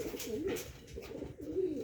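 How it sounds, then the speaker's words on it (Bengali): Giribaz pigeons brought from Rajshahi coo softly in repeated throaty, rolling phrases, faint and close with a low background murmur. "গিরিবাস কবুতর আছে"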